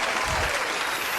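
A brief burst of crowd applause, dense steady clapping at moderate loudness with no voices over it.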